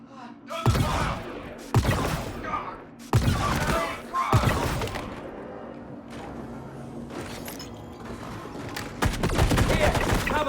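Rapid bursts of gunfire in the video game Star Citizen during a Project Hyperion mission, with loud volleys and sharp impacts repeating at irregular intervals over a steady background hum, among shouted combat callouts.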